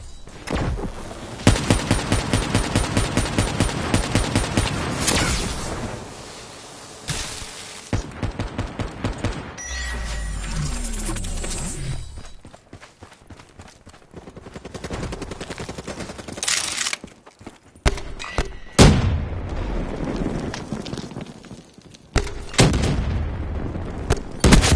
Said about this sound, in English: Ready to fire for effect.